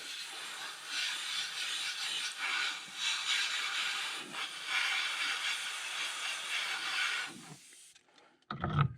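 A steady hissing spray as a fishing lure is spray painted, running for several seconds, then stopping, followed by a couple of soft clunks.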